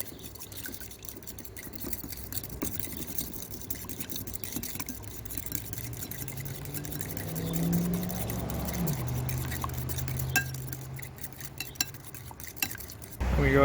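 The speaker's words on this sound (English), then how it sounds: "We'll go ahead and stir that guy up real quick. Mix her on in there. Easy like so, and mix our egg up." An egg mixture is stirred in a bowl for battering fish fillets, with steady close scraping and light clinks of utensil on the bowl over about thirteen seconds, no voices.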